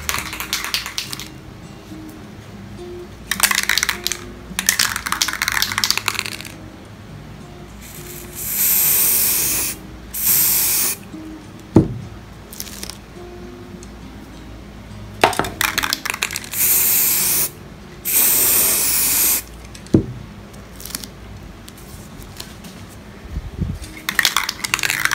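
A can of spray paint is shaken and sprayed onto the edges of a book in short, close hissing bursts, with pauses and a few clicks and rattles between them.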